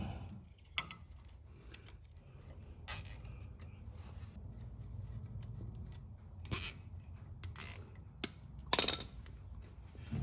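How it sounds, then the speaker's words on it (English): A zip tie ratcheting tight while securing a part to a Jeep Wrangler JL during a lift kit install, heard as a few short, sharp zipping bursts spread across the clip over a low background hum. "I'm just going to go ahead and zip tie this thing on"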